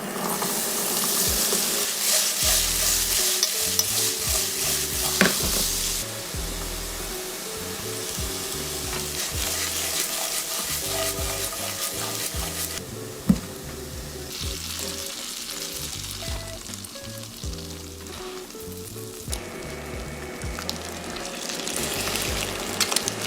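Diced jalapeno, onion and potato fry in a pan for breakfast tacos. The sizzle is loud and constant and close, with occasional stirring and scraping and a light clatter. Nobody talks.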